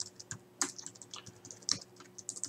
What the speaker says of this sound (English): Oh, terrible typing today.